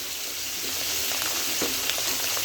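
Onion, ginger and garlic paste sizzles and fries steadily in a pan, a close, constant crackle with faint stirring scrapes throughout.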